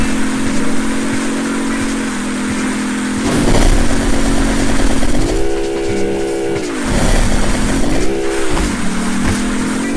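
Video game train in Driver 2 on PS1, passing in Las Vegas: a loud continuous rumble carries a droning whistle-like tone that jumps up and down in pitch several times, with no talk.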